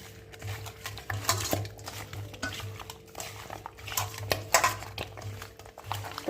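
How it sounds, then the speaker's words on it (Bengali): Small fish are mixed by hand with turmeric and salt in a metal bowl, giving close, irregular squelching, patting and light clinking sounds with no talking. "তো আগে হলুদ দিয়ে লবণ দিয়ে মাখিয়ে নেব।"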